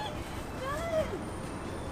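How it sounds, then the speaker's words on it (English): Geese honk across from a hotel in a Japanese suburb, one clear rising call standing out from a steady background hum of traffic and outdoor noise. "I didn't know that there were birds opposite my hotel"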